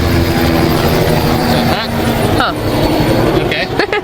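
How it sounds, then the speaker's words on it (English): A helicopter flies overhead, heard from inside or beside a car as a steady loud rotor and engine roar filling the whole clip, with people talking over it. "Is that a helicopter? Yeah."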